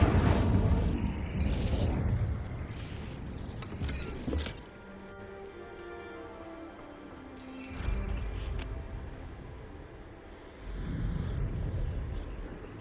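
A fire spell is cast in a Harry Potter video game, a rushing, roaring burst of flame that flares up, fades, and rumbles again in later low surges.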